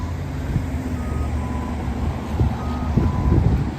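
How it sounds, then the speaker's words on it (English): A truck's reversing beeps repeat at an even pace against steady road traffic on a city street in Regina, heard from a sidewalk in March; the beeps are moderately distant and the traffic rumble is continuous. "Now you get some traffic noise"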